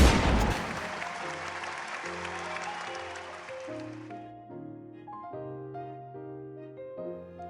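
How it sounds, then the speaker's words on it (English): Crowd applause at a monument dedication ceremony, starting as a dense, loud wash of clapping that fades after a few seconds while sustained band music carries on over it. "With the applause of the crowd and music filling the air, volley after volley from the infantry composed the salute."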